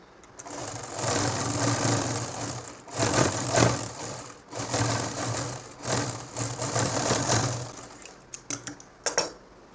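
A home sewing machine stitches a nightie in several close whirring runs with brief stops and uneven pacing, ending with a few sharp clicks and handling taps.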